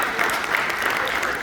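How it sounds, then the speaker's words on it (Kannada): An audience claps for an arts troupe at a Deepotsava drama cast introduction, a steady, dense burst of applause filling the short moment without pause. "ಅವರಿಗೆ ನಾವೆಲ್ಲರೂ ಸೇರಿ ಹೇಳಿ ಮತ್ತೊಮ್ಮೆ ಚಪ್ಪಾಳೆ ಹೊಡೆಯೋಣ."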